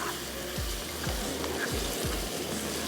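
Onions and mutton sizzle steadily in a pot for Sindhi seyal gosht, with a continuous close frying hiss and soft rhythmic thumps of stirring about every half second.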